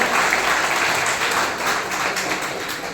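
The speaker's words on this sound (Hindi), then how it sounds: "एक बार पुनः इन बच्चों के लिए जोरदार तालियां" An audience at a children's award ceremony applauds steadily, a dense wash of many hands clapping at moderate loudness that tapers slightly toward the end.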